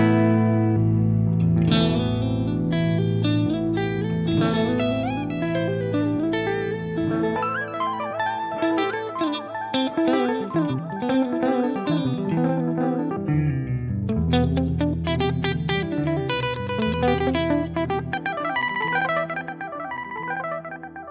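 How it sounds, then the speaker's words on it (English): Electric guitar played through an Eventide Rose delay pedal with the delay line doubled in length, loud and continuous, notes repeating and smearing into trailing echoes and modulated, chorus-like washes. "So when I press a hot switch on the pedal, which is out of shot, unfortunately, you'll definitely hear it though, it's going to double the length of the delay line"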